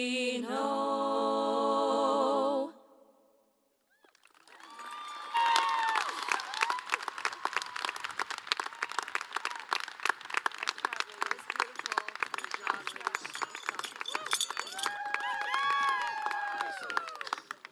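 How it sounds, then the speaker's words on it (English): Audience applause at a high school graduation ceremony, a dense sustained wash of clapping with some cheering that follows a sung performance's final notes, loud and continuous for over ten seconds. "Let's give them another round of applause."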